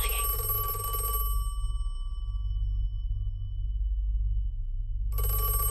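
A telephone bell rings in a Don't Hug Me I'm Scared song, a bright electronic ring that sounds, stops for several seconds over a low hum, then starts again.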